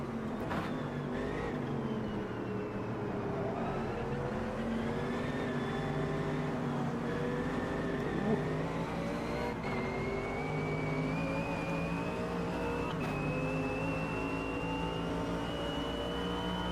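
Race car engine in the sim racing game Automobilista 2, a GT3 car on track, droning steadily with rising pitch as it accelerates through gears, continuous and up close with no talking.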